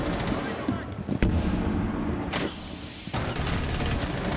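Shotgun fire in Rainbow Six Siege, heavy booming blasts in quick succession with a dense, rumbling tail, close and loud.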